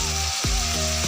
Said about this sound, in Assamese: এয়া মই মাংসখিনি অকণমান লৰাই দিলোঁ, তেনেকৈ সিজি থাকিবলৈ দিম